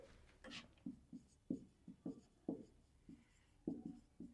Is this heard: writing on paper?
yes